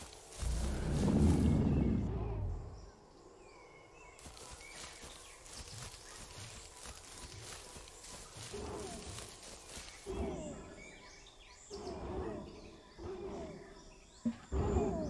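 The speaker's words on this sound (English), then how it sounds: "This could be a sleeping Carnotaurus." A sleeping Carnotaurus in the survival game The Isle breathes with a deep, low rumbling swell near the start, then fades under quieter ambient forest sounds with scattered distant calls.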